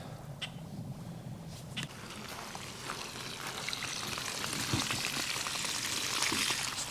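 Water streams and splashes steadily from a pipe being pumped out during farm pipe repair work, a continuous broadband rush with faint dripping, growing slightly louder toward the end, with no voices.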